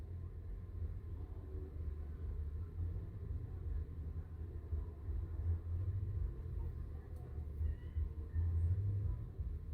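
2007 Mercedes-Benz SL 500 engine running after startup, a steady low rumble holding at a constant level throughout with no other sounds on top.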